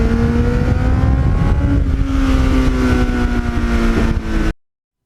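A 1989 Kawasaki GPX750R motorcycle with a Muzzy muffler accelerates hard through the gears, its loud, close exhaust note climbing in pitch, dropping at a shift and climbing again before cutting off abruptly.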